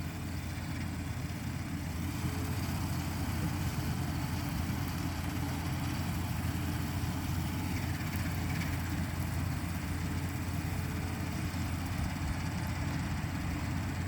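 A continuous engine drone runs throughout, steady and fairly loud, from a mower and tractor working nearby in a pasture beside a highway, with no speech.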